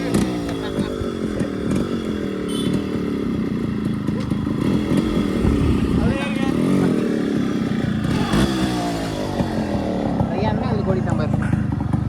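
Yamaha RX two-stroke motorcycle engine running continuously while riding, a loud buzzing rattle steady throughout with voices talking over it.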